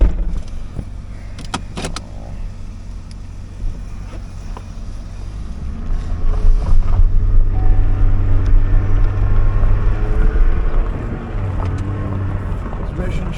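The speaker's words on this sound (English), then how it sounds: "Transmission shifts." A 2006 Cadillac XLR V with a 4.4L engine drives off, the engine note rising and falling as the transmission shifts, with a few clicks and knocks early on. Someone talks over the engine sound throughout.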